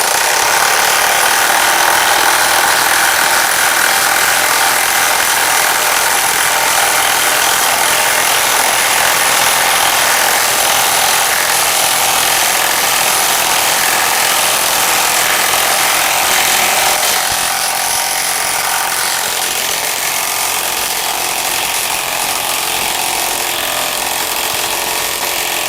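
A Milwaukee M18 high-torque impact wrench drives 16 mm coach screws, 8 inches long, into wood without pilot holes, a loud continuous hammering rattle close by for about twenty-five seconds, easing slightly toward the end.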